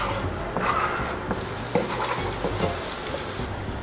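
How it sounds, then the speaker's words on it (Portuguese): Turkish-style red lentil soup with a big spoonful of paprika simmers in a pot, giving a steady close sizzle and bubbling with occasional soft stirring scrapes throughout. "E vamos misturar. Vamos deixar ela ferver por uns"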